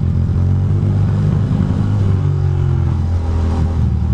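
A Ducati motorcycle engine running loud and close in wet, rainy riding, with a continuous low rumble and rising revs throughout.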